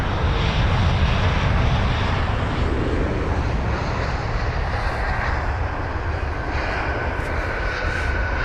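An arriving airliner touching down and braking at London Heathrow, a loud, broad jet roar that stays constant and close throughout, with a faint higher whine creeping in near the end.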